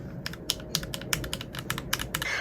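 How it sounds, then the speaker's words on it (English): Rapid, close-up typing on a Royalaxe X wireless mechanical keyboard, with sharp clicky keystrokes landing in quick, uneven bursts over a steady low background hum. "So here when you click on the keyboard, it makes very clicky noises, very satisfying"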